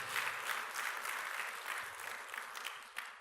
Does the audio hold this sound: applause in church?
yes